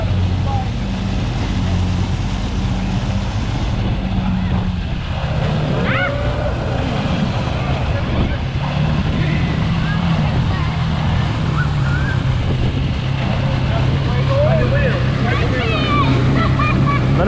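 Motorboat engine droning steadily on open water, loud and close, with wind buffeting the microphone and brief bits of water noise, while people talk now and then.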